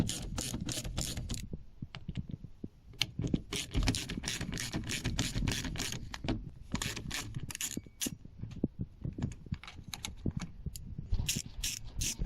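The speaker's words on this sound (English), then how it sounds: "undo the 3 bolts holding in the mirror. They're T25s as well." A ratchet undoes the three T25 bolts holding the side mirror on a Smart car door, with rapid clicking pawl bursts in quick repeated strokes, close and continuous, with no talk.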